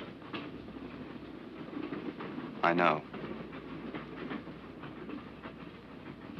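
A train runs along the rails with a continuous rumble and faint rhythmic clatter, heard at a moderate distance while someone briefly speaks.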